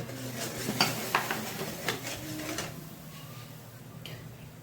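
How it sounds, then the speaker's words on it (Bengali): Spice paste sizzling in oil with nigella seeds in a wok, stirred with a metal spatula, several sharp scraping knocks early on over a soft frying hiss that fades toward the end. "কড়াইতে যে তেল ছিল সেই তেলের মধ্যেই কালো জিরে ফোড়ন দিয়ে মশলাটাকে ঢেলে দেব খুন্তি দিয়ে একটু নেড়ে চেড়ে নিয়ে"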